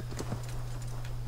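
Horse hooves clip-clop in a steady rhythm as a mount trots along in the video game Assassin's Creed Valhalla, fairly close and moderately loud, with a low constant hum running underneath.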